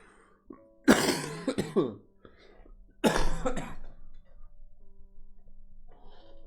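A character in the Pesterquest video game coughs and clears their throat in two harsh bursts, close and fairly loud, separated by quiet pauses.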